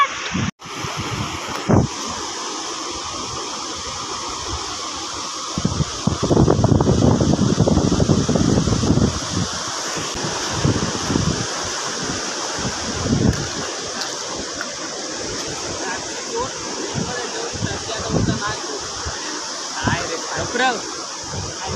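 Steady sea surf washes in continuously on Achara beach in Konkan, India, with wind buffeting the microphone, a louder surge midway, and people talking over it.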